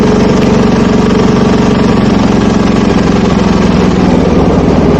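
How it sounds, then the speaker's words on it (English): Small lawn tractor engine converted to run on propane and fitted to a go-kart idles close up, a loud steady chugging throb with even rapid pulses and a faint knock. "hotter this engine gets, the less it likes to idle."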